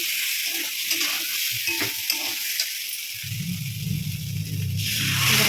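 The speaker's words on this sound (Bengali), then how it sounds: "আদা আর জিরে দিয়ে এখন ভেজে নিচ্ছি" Ginger and cumin fry in a pan with a continuous hissing sizzle and light stirring ticks, joined partway through by a low rumbling undertone.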